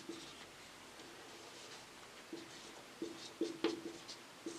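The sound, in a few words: writing down the given values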